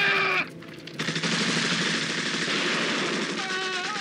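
Rapid bursts of automatic gunfire and shots crackle loudly in a war movie scene after a brief shouted command, continuing densely for several seconds.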